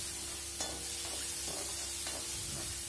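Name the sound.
frying and stirring onion, ginger and garlic paste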